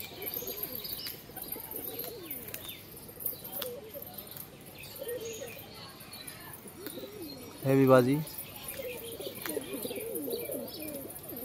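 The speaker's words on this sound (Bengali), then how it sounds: "এই যে বন্ধুরা পায়রাটা দেখুন" Pigeons being shown for sale coo softly in the background while someone talks over them, with a short louder burst of sound near the end.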